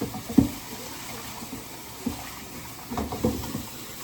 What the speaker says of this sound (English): It said you wash your rice, basmati rice, you wash it like you always do.